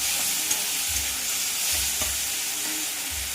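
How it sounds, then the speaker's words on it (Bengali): Prawns fry in a hot pan with radhuni seeds for a light prawn curry with ash gourd, giving a steady broadband sizzle with a few soft stirring knocks, close and continuous, with no voices. "এবার চিংড়ি মাছগুলো দিয়ে ভালো করে ভেজে নেব"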